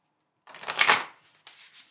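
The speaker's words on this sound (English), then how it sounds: "So, I am now going to pull a card for you from the Oracle" A deck of Oracle of the 7 Energies oracle cards is shuffled close by in one quick riffling burst, followed by a shorter flick of cards, with no talking.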